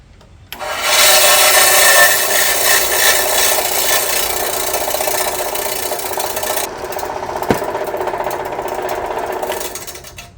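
A drill press grinds steadily into a tennis ball, a loud rasping whir lasting several seconds with a brief sharp pop partway through as the hole breaks through.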